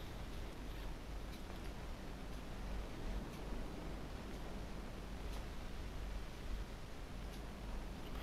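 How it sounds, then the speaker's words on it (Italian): A faint, steady white-noise hiss from the dark horror-style game Limbo, a soft static wash that stays even throughout with only slight rustling flickers and no voices. "Un leggero rumore bianco sia sullo schermo che nelle cuffie ci accompagnerà per tutto il gioco"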